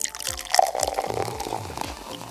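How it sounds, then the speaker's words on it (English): Water being sipped and swallowed, with soft wet slurping and small gulps close to the mouth over a couple of seconds, alone without talk. "let me sip some water"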